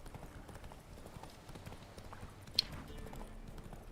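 Hooves of the horse Roach in The Witcher 3 beat a quick, steady galloping clip-clop at moderate distance, fairly quiet, with a brief sharp click near the end.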